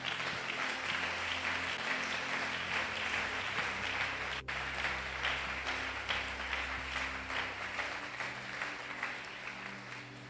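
A church congregation applauds steadily, a dense and fairly distant wash of clapping with one sharp knock partway through, while faint talk sits underneath.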